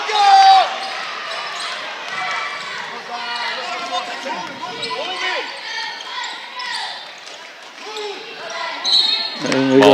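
A basketball thumps repeatedly on a gym floor during a high school game, with a commentator's voice talking over it, squeaking shoes and a murmuring crowd.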